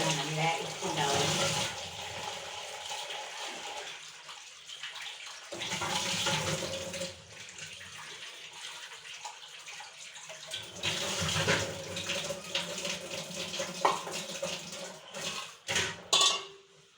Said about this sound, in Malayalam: ഉണക്കമീനൊക്കെ കഴുകുക. നല്ലോണം കഴുകണം.